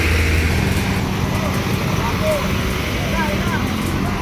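Steady low rumble of heavy cattle trucks idling and moving into a livestock market in Urdaneta City, Pangasinan, with a busy outdoor hum and faint voices in the background.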